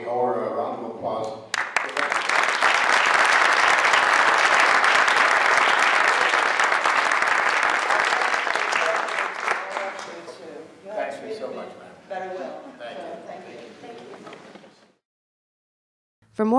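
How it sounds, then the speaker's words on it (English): Dense audience applause at a press conference swells and holds for several seconds, then thins out into scattered clapping and voices before stopping. "We owe her a round of applause."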